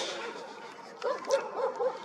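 Dogs bark and yip outdoors during an evening watch of the Jupiter and Saturn conjunction, a series of four or five short yelps in the second half after fainter, muffled sounds, moderately distant with no speech.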